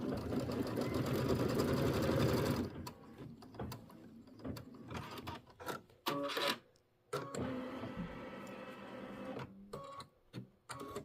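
A sewing machine runs steadily for a few seconds, stitching a quarter-inch seam through sprayed quilting fabric held under the foot, then stops; scattered clicks and handling noises follow.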